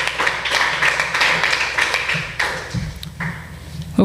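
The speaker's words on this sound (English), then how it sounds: "Please, a round of applause." A school debate audience applauds in a dense, continuous patter of clapping at the close of a match between Treasure Trove School and Canaan Glory Academy, with the clapping thinning out toward the end.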